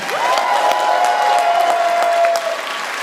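Live audience applauding and cheering for the cast of the film Dark Match at a Fantasia Film Festival Q&A, a steady dense roar of clapping with a sustained whistle running through most of it.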